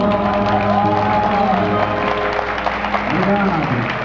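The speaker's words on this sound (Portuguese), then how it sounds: "E peço uma salva de palmas para a cultura brincó." An audience at a viola show during a folk culture festival in Icó applauds and cheers steadily throughout, with a voice speaking over the clapping.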